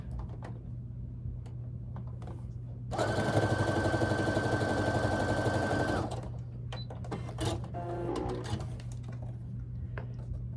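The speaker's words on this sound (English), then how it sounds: "I'm going to sew those together" A sewing machine runs a fast, steady burst of stitching for about three seconds as two small quilt squares are joined, with quieter clicks and handling noises before and after.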